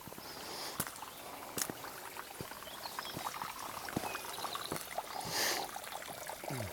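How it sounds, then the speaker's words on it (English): A small babbling brook runs beneath a stone arched bridge near a hillside chapel, giving a steady close trickle dotted with small splashes and drips, with no voices. "there's a little babbling brook right there"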